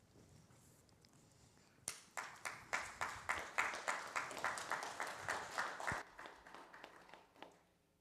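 A congregation at an Erev Shabbat synagogue service bursts into warm applause, many hands clapping together in a steady, lively burst that lasts several seconds and then tapers off, with a few scattered claps at the end.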